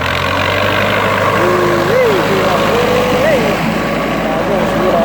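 A single-axle walk-behind tractor engine chugs steadily at close range while tilling a rice paddy, a continuous low rumble with someone talking over it.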